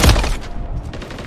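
A quick burst of video game gunfire, several rapid shots running together in a loud rattling volley with a strong opening blast that fades over about a second.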